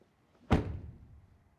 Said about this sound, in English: Let's start with the door closing sounds.